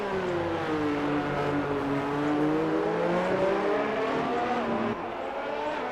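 An Alfa Romeo race car in a racing video game runs out straight into the wall, its engine droning and shifting pitch steadily with faint tire noise, no voices over it.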